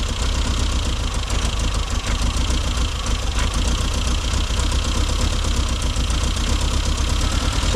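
A classic Mini Cooper engine running at raised revs while being tuned, a steady, loud, buzzing drone with no breaks.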